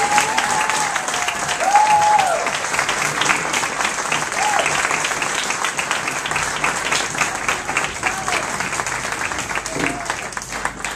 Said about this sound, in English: you are now allowed to applaud.